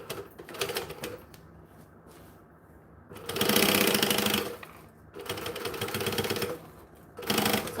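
A sewing machine top stitching through a garment and its lining runs in bursts, quieter stretches giving way to loud, fast, rattling runs of needle strokes that stop and restart close by.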